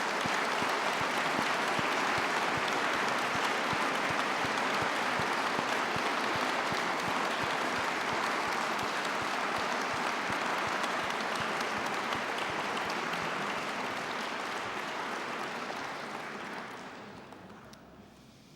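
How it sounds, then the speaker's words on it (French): An audience under the dome of the Académie applauds prize laureates at a formal ceremony, a sustained, even wash of clapping that lasts nearly twenty seconds before tapering off and falling silent. "J'invite donc les lauréats que je viens de citer à se lever et le public à les applaudir"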